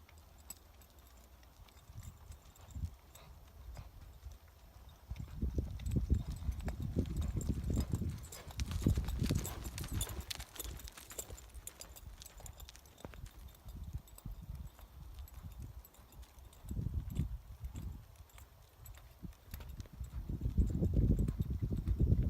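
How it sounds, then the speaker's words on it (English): A competition horse canters in training, hooves thudding in soft, rhythmic bursts on the ground that swell and fade as it circles, fairly faint against a quiet background. "Here we go into a canter."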